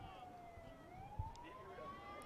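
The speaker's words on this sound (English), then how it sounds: "I hear some sirens." Emergency vehicle sirens wail in the distance near a baseball field, a faint rising and falling tone heard under low background noise, with a brief thump partway through.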